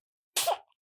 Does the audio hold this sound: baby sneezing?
yes